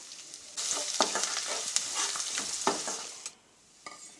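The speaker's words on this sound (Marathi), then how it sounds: "त्यामध्ये लसूण पेस्ट घालायची आहे आणि लसूण पेस्ट छान मिक्स करून घ्यायची आहे" Garlic paste sizzles in a pan with crackled cumin seeds while a spoon stirs it, giving close, bright frying hiss broken by repeated scraping strokes.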